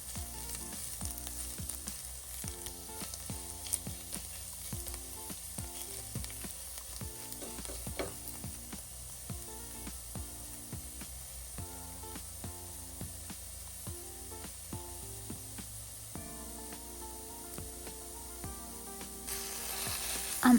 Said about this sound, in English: I'm adding turmeric, mixing well and sauteing it for a moment.